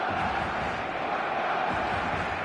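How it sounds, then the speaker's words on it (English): Steady expectant crowd buzz fills a football stadium in the eFootball video game, a dense, even murmur of many voices with no distinct cheers. "There's a real expectant buzz in the stadium"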